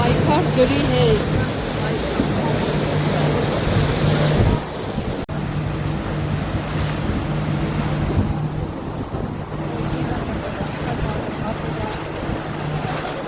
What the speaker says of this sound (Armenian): Այսօր ջրային ավտոբուսով